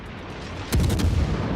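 Guns of the Atago heavy cruiser fire in a naval video game, one loud, heavy boom that breaks a low steady hum and rolls out into a rumbling decay.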